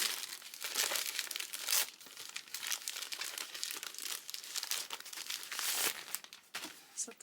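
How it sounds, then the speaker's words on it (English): Gift-wrapped book being unwrapped, its paper crinkling and tearing in continuous close rustles with sharper rips, no talk over it. "we have number 8 here. Let's unwrap it."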